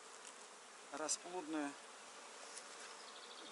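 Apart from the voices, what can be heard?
honey bees flying out of hive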